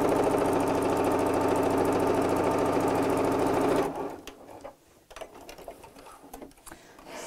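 Sewing machine stitching the final side of a tea cosy, a loud steady mechanical whir with rapid needle rhythm for about four seconds, then stopping into quiet handling noises.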